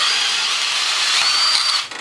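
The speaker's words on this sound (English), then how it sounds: "support your metal somehow and drill out the existing" A power drill bores out aluminum rivets on the metal serial plate of a Norwalk juicer, the sheet metal supported beneath. A loud, steady high-pitched whine runs for about two seconds close up, then tapers off at the end.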